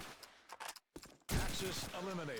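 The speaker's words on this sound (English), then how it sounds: "Gonna fire off some shots." Gunfire in the World War II shooter Call of Duty 2 on the Burgundy map at a competitive LAN match, sharp bursts of shots mixed with loud excited talk from a commentator.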